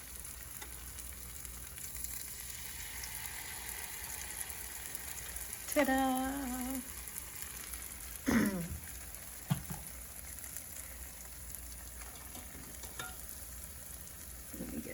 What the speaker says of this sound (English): You hear that sizzle? Drop by spoonful.